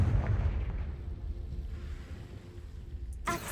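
A Confringo blast spell from a Harry Potter video game goes off as a loud, rumbling explosion at the start, then decays into a low roar with a sharper burst near the end.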